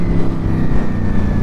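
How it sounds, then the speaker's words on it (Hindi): Ducati V4S motorcycle engine roaring through a wheelie, a loud, steady high-revving drone with a sustained tonal whine, close and continuous without a break. "तो यहाँ पे अभी होने वाली है डुकाटी पे व्हीली"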